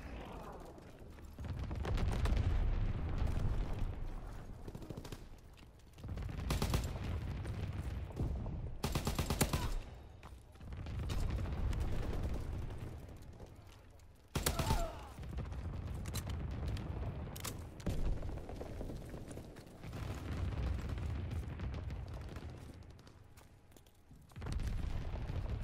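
Gunfire and explosions from a ball turret gunner video game roll on in dense, loud bursts of rapid shots and booms, separated by brief near-silent gaps.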